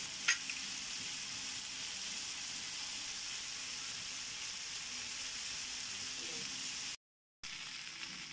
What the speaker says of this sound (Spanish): aquí ya le agregué la cebolla. Y se sigue cocinando.